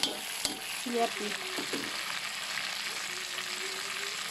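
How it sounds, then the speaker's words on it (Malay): Onion, garlic and curry leaves sauté in oil for buttermilk prawns, with a steady close sizzle, a few early utensil knocks and brief speech near the start. "Okay, kita akan tumis ni. Bawang besar, bawang putih, daun kari."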